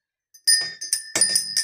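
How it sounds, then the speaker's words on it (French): A small bell rings in a quiet room, struck once with a bright, clear tone, then rung in several quick, close strikes whose high notes blend together before fading. "Ah, petit coup de cloche."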